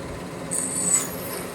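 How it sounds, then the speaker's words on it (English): A wooden Christmas elf's face is trimmed by hand, giving a short, soft rasping scrape of a tool on wood, close up, over a quiet hiss. "Here you see I'm just trimming up the face a little bit, make that a little bit more refined."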